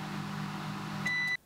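A microwave oven reheating a chicken pie runs with a steady low hum, then a few high electronic beeps sound near the end before the hum cuts off abruptly.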